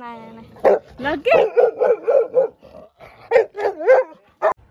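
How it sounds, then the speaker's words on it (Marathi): Several dogs, including a village dog, bark, yip and snarl in quick overlapping bursts, close and loud, like a scuffle between them, at a home in a small village in Satara, Maharashtra. "एक गावामधला कुत्रा होता, त्यांची भांडणं चालू होती"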